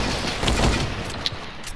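Gunfire in the video game Fortnite, a dense burst of rapid shots and booms, loud and close throughout.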